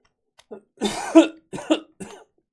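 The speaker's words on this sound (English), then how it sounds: "I don't think I've ever made it through an episode without having to clear my throat a couple times" A few bursts of coughing and throat clearing from a podcast host during a board game discussion, close and loud, in three separate clusters with short pauses between.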